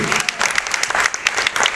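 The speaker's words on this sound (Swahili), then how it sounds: "Patia Bwana makofi mazuri." A church congregation at a gospel music launch and anointing service applauds loudly, with dense close clapping and faint voices mixed in through the burst.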